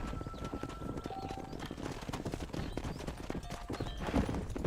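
Horse hooves clip-clop steadily in the Western video game Red Dead Redemption while cattle are herded down a road, a continuous close trotting rhythm over game ambience.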